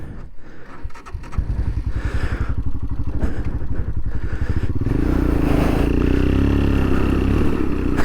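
Royal Enfield Himalayan 462cc motorcycle ridden through deep sand and gravel, with a loud, close engine that throbs unevenly at first, then rises into a steady roar mixed with crunching, scraping grit.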